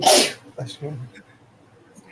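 A single loud, sharp sneeze bursts out close by, followed by a person speaking briefly in a quiet indoor setting.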